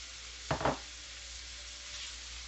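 Beef and a whole onion cooking in butter in a pot, with a short loud sizzling burst early on, then a faint steady simmer and a small swell near the end.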